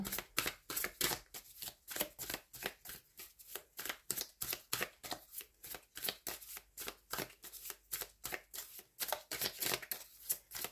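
Tarot cards being shuffled for a reading: a long run of crisp, rhythmic riffling bursts, close and fairly quiet, repeating steadily with no talk.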